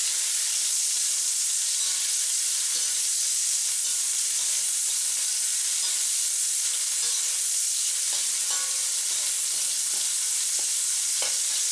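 Chicken with chili pepper stir-frying in a pan, a loud, constant bright sizzle with scattered spatters and occasional soft utensil clicks, close up and with no talk.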